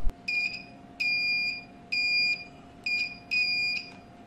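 A homemade all-component tester sounds its continuity beep in repeated shrill electronic tones, five short and medium bursts with brief gaps, close and clear over a faint steady hum.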